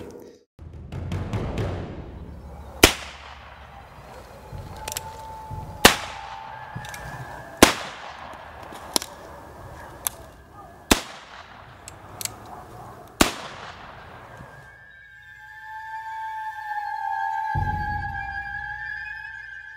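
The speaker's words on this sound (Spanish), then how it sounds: "vamos ahora a dejar a Marcos con su arma, que realiza algunos disparos" A string of sharp gunshots, about eight spaced bangs over several seconds, ringing out with echoing tails; a faint tone and low rumble follow.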